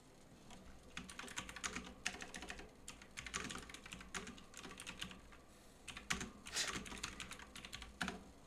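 Close, fairly quiet typing on a computer keyboard, with irregular bursts of rapid key clicks and a few louder individual strokes.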